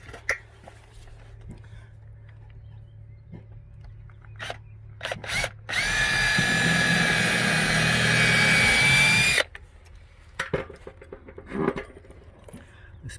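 A power drill drives special weatherboard screws into timber cladding: a few short bumps and clicks, then one steady, loud whirring run of about four seconds up close, followed by handling knocks.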